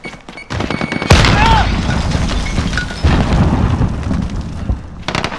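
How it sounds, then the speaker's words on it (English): Grenade blast in the Call of Duty: Modern Warfare video game, a sharp loud boom early on amid a dense, sustained din of gunfire and battle noise, with a second heavy thump midway; voices are faintly present. "Grenade out!"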